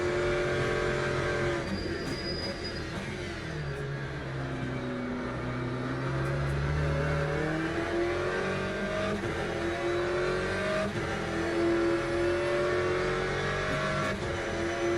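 Race car engines roar steadily in a Le Mans Ultimate sim race, with rising and falling revs, gear shifts and nearby Porsches running close, loud and continuous with no talk over them.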